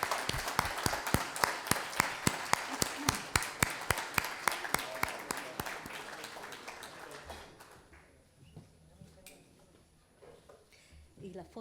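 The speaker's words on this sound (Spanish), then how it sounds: "agradecemos con un gran aplauso" Applause at an engineering conference, a steady run of rhythmic, fairly close claps, almost in unison, lasting about seven seconds, then fading into quiet room noise with faint talk.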